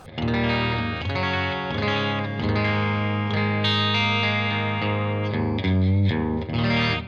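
Distorted electric guitar through a Tonex amp modeler set to a copper tone, sustained chords and riffs played continuously, loud and close, with chorus-like shimmer.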